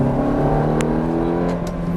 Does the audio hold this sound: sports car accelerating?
yes